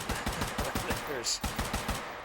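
Grenade launcher firing in the game Spanners: a fast, loud string of about a dozen evenly spaced sharp shots across two seconds, with a brief high hiss midway.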